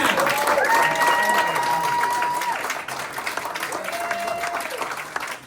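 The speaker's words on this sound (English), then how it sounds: "Give them all a huge hand." Audience applause for Republican candidates at a California GOP candidate Q&A event, a broad steady wash of clapping that thins slightly midway, with tonal sounds and a voice over it.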